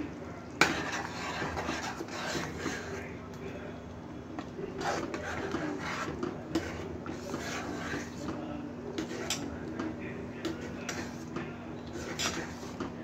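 A spoon stirs fish masala curry in a metal pot just after cumin powder goes in, giving steady scraping and clinking strokes with occasional louder knocks against the side, close and continuous over a low background hum.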